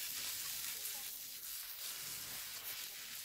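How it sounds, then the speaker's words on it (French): Vegetables with chopped tomato sauté in a pan, making a dense, continuous sizzle that holds level and close for the whole stretch, with faint stirring movement underneath. "Vous faites revenir les légumes jusqu'à ce qu'ils soient tendres et juteux."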